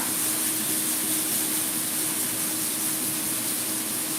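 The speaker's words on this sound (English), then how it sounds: "Wow, that's really sizzling." Broccoli sizzling in a hot pan, a continuous loud hiss of frying with steady crackle that never lets up, with no talking over it.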